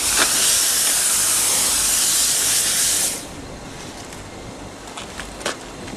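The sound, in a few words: vapor steam cleaner blasting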